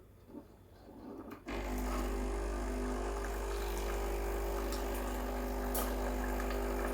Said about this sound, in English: This will give you hot water directly from the boiler.